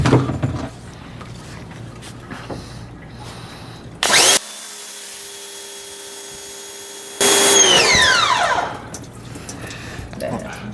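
A pressure washer blasts a UV DTF sticker from very close range in two loud hissing bursts, a short one then a longer spray that fades out, with a person talking before and after.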